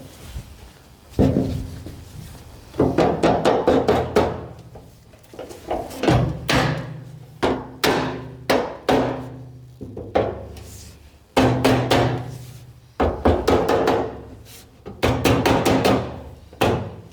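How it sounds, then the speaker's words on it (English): A rubber mallet strikes a steel panel being fitted on a 1949 Willys pickup, giving loud, close, irregular knocks in quick bursts with short pauses between them, and no one speaks. "this piece is fit up now with the help of rubber mallet and a grinder"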